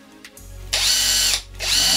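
A Villager VLP 5720 cordless impact wrench with 400 Nm torque whirs up to full speed in two close, loud bursts with a short pause between them.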